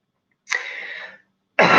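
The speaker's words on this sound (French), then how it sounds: "Je tousse parce que ça se nettoie" A single person gives a short throaty cough, followed by a second harsh cough burst that starts abruptly, close to the microphone in a quiet room.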